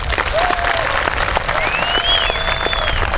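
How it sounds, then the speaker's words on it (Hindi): Loud, sustained audience applause fills the room after a stage drama performance at a training center, a dense steady wash of clapping with a few whistles rising over it throughout. "तालियां बताएंगी।"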